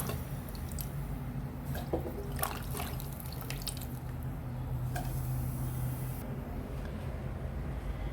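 Pieces being washed by hand in water and dropped into a stone cooking pot, giving light drips and trickles over a steady low background hum, with no talking.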